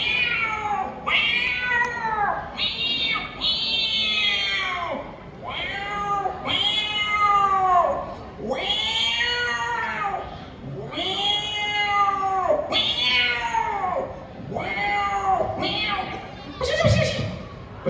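A voice imitates a cat yowling after being dunked in cold water, producing a long series of loud, drawn-out wailing meows and caterwauls in close succession, close up and with no other talk.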